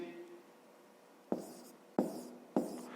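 A pen writes numbers on paper during a fifth-grade maths exercise, making three distinct, close scratching strokes that start sharply and fade, separated by brief quiet gaps.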